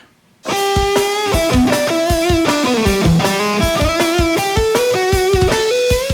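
Distorted lead guitar riff trading off with sharp snare drum hits, loud and steady, with bending sustained guitar notes over a regular percussive pulse.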